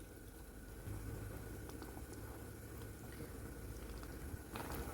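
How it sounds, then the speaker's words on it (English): Water with peas, methi (fenugreek) leaves and rice coming to the boil in a pot, a steady low bubbling and simmering hiss that runs continuously at a soft, even level. "Now that it has come to the boil"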